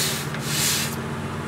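Rough, hissing friction of sandpaper rubbing against a spinning Royal Poinciana wood turning on a lathe, a single steady pass swelling then easing off, close and fairly loud.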